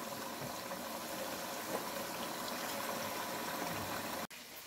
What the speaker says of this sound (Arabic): وبعدنا عم بقلي بطاطا